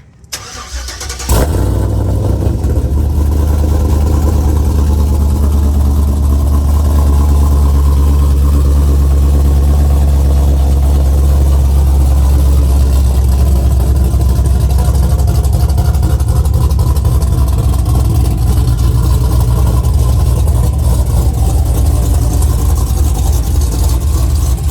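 A supercharged LSA 6.0 engine in a 2007 Chevrolet Avalanche cranks and fires up, then settles into a loud, deep, rumbling idle with a throaty exhaust that keeps running steadily.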